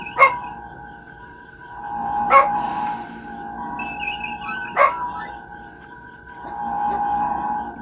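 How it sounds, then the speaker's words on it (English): Dogs barking in the distance outdoors, three sharp single barks spaced a couple of seconds apart over a steady hum and a faint background tone. "Glad I did that before dogs started barking."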